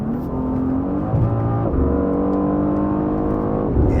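A nearby car accelerates past in a racing burst, its engine note climbing through several gear shifts as it revs hard and close.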